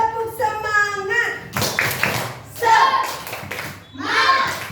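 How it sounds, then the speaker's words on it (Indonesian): Schoolchildren in a classroom perform the rhythmic 'tepuk semangat' clapping chant, with bursts of group clapping alternating with their chanted voices in a lively, patterned sequence. "tepuk semangat dulu semua"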